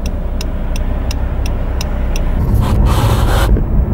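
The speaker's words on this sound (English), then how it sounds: "there's like a lot of traffic at this time." Traffic rumbles heard from inside a moving car at 7 a.m., a loud steady low road drone with a regular ticking, like a turn signal, and a short whooshing swell near the end.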